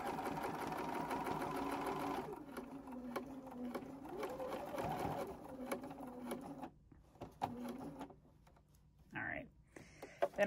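A sewing machine stitches fabric for a pet corner hammock with a steady, fairly quiet motor hum running for about seven seconds, then slowing and stopping, followed by a few small clicks and a short burst near the end.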